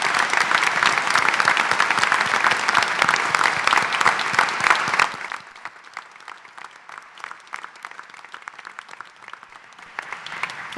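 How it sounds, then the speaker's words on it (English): Audience applause at a town school district deliberative session, dense and loud for about five seconds, then thinning to scattered claps that linger to the end. "I think he deserves a round of applause."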